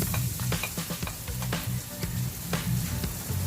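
Garlic frying in a pan for a sautéed chayote dish with pancit canton, giving a steady, close, continuous sizzle broken by faint clicks of stirring.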